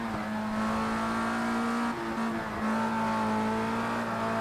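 A Formula Rookie race car in Project CARS 2 holds a steady high engine whine at sustained revs, with a brief dip in pitch near the middle. The tone is loud and close, with no talk over it.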